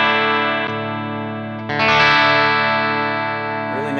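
A chimey electric guitar with a split humbucker rings out in sustained clean chords, with a fresh strum after a moment and shimmering overtones lingering steadily throughout.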